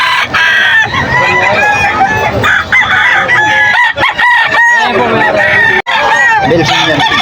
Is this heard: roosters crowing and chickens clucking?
yes